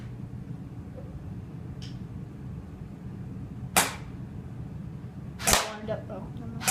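An airsoft M4 Lancer Tactical rifle fires single semi-auto shots at a target, two sharp cracks and a fainter snap against a low steady background hum, with no talking.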